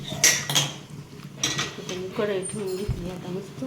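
A metal kadai wok set down on a home kitchen stove while preparing tempering for dhokla, giving a few clanking metal knocks and scrapes of cookware, fairly close, with faint voice in the background.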